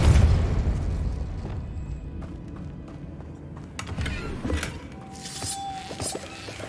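A Depulso spell blasts a door in Hogwarts Legacy: a loud, booming burst opens the clip, followed by rumbling debris and scattered crashing, thudding impacts over the next few seconds.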